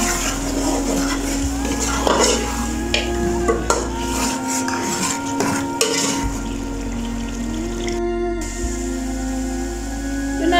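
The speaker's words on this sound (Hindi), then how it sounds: "कुकिंग ऑयल ऐड करने के बाद गोश्त की अच्छे से बुनाई कर लेंगे" Mutton browning in cooking oil in a pot for palak gosht gives a steady close sizzle with scraping stirs and metal pot clatter throughout.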